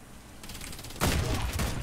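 Sidewinder gunfire in Warface, a burst of rapid shots that starts sharply about halfway through and stays loud and dense to the end, with a softer mechanical rattle before it.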